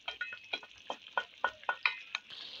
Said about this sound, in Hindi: मैं साथ साथ चमची से मैश भी करती रहती हूँ।